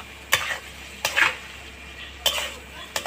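Fish (prawns) lightly frying in a pan, with potato in the dish. Four sharp bursts of spatula stirring and scraping stand out over a soft, steady sizzle, with no talking.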